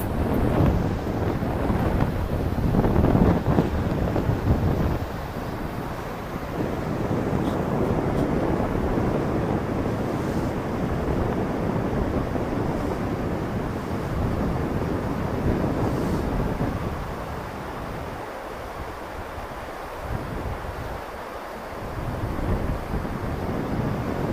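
Strong wind buffets the microphone in a constant loud roar, with low rumbling gusts that ease slightly near the end; no speech.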